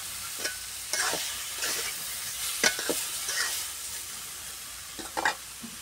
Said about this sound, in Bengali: এখন নেড়ে নিব, ভালো করে কষে নিতে হবে।